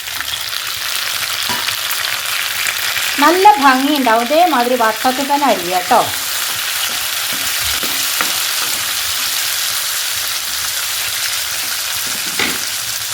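Chilies and tomato sizzling in a frying pan, a steady bright hiss throughout with someone speaking over it for a few seconds and faint utensil taps.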